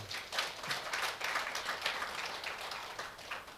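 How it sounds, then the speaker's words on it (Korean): Lecture audience gives a brief round of applause during a talk on Admiral Yi Sun-sin's leadership. The clapping is faint and distant, a steady patter lasting a few seconds. "박수 한번 치셔야 돼"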